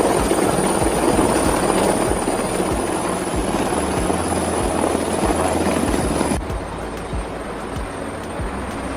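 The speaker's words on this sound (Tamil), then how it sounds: "ஹெலிகாப்டர்ல வந்து இறங்குறாங்க." A helicopter thuds and whirs with a heavy rhythmic rotor beat, loud and fairly near, and the noise drops off abruptly near the end.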